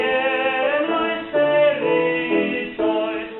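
A short phrase of sung church music, "Rejoice in the Lord always", voices holding sustained harmonious notes with smooth changes in pitch.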